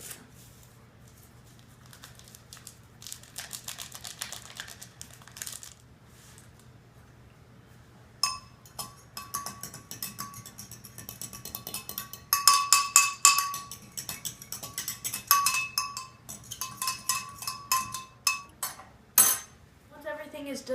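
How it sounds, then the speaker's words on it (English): A fork clinks and scrapes inside a cup while stirring jello powder into hot water, with scattered light metallic taps and clattering that grow busier toward the end, close and fairly quiet. "you're just going to mix the jello and the hot water together"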